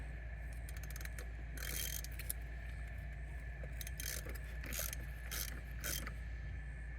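A ratchet from a VEVOR heavy-duty 1/2-inch impact socket set loosening a bolt, heard as bursts of rapid clicking pawl ticks in several separate strokes over a low steady hum, close and moderately quiet.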